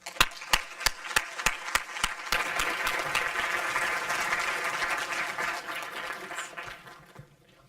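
Audience applause at a Yale talk on the cannabis landscape opens with several sharp, evenly spaced claps, then swells into a steady wash of many hands clapping that fades out after about seven seconds.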